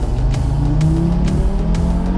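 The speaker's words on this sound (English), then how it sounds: "this car will blast your ass from 0 to 100 kilometers an hour in less than 4 seconds" Audi RS3 with a seven-speed dual-clutch gearbox accelerating hard, a loud continuous engine roar rising through the revs with quick rhythmic pulses, close up.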